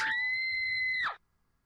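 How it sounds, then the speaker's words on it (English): A woman's terrible scream in a horror video game: one shrill, sustained, piercing cry lasting about a second, cut off abruptly into near silence. "A terrible scream"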